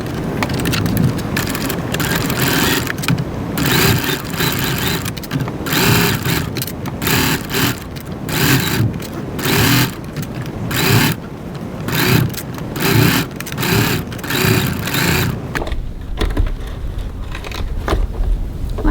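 A sewing machine runs a 1cm seam at stitch length 2.4 in steady rapid bursts with brief pauses, close and loud, stopping near the end.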